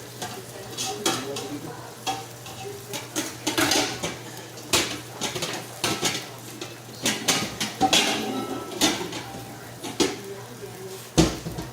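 Pans and a pot lid clank and scrape repeatedly while chicken with celery sautés and sizzles nearby, irregular metallic knocks over a steady frying hiss, with a voice talking briefly.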